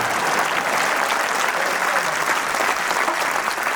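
Crowd clapping at a live Hindi hasya kavita comedy poetry performance, a sustained, even wash of applause from a large audience with no pauses.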